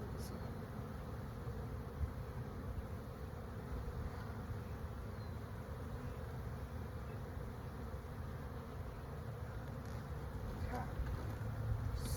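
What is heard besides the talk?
many honey bees buzzing around an open hive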